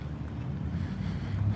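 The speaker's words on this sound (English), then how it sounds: "super windy here" Strong wind buffets the microphone outdoors at night, a heavy, low rumbling roar that stays loud and steady throughout with no talking.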